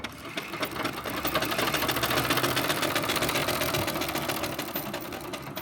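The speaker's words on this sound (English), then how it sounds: "Sewing machine." An old treadle sewing machine runs steadily, its rapid mechanical clatter and whir rising and holding for several seconds with no talking.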